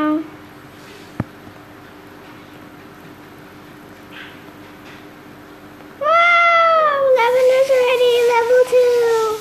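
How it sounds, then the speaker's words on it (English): A cat character in the online game StarPlanet meows repeatedly in high, drawn-out cries that start after a quiet stretch and grow louder, with no one talking over them. "There's a cat."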